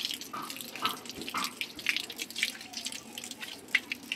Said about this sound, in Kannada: ಸೊ ಇವಾಗ ನಾನು ಎಲ್ಲ ಕಡೆ ನೀರು ಹಾಕ್ಕೊತೀನಿ